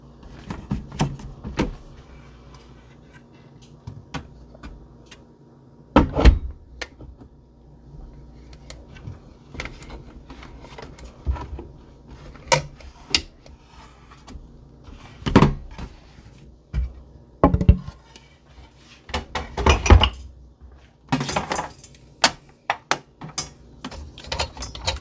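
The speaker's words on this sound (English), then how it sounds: "now all we have to do is secure the pan into the Cuisinart bread maker" Cuisinart bread maker pan being pushed and locked into place inside the machine: a series of sharp plastic clicks, clunks and rattles in short bursts, close up, with quiet handling noise between them and no talking.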